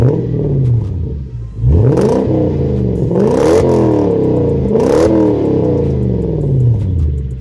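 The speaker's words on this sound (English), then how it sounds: "let's roll a little clip of what the LS400 sounds like with an exhaust" A Lexus LS400 engine with an aftermarket exhaust, deep and throaty, revs up several times in rising and falling sweeps, loud and close, with a steady rumbling idle between revs.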